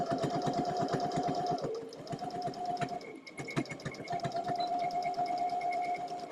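Sewing machine stitching fabric in rapid, even runs with a close, loud mechanical whir and needle clatter, pausing briefly twice before resuming.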